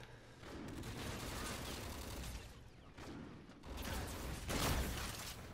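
Gunfire in the game Call of Duty: Infinite Warfare, a dense run of shots and rattling mechanical clatter, loud and continuous with brief dips and a heavier burst near the end.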